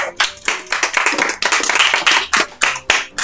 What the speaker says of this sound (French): Bonne réponse de Lucho. On peut applaudir